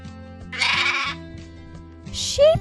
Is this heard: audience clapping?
no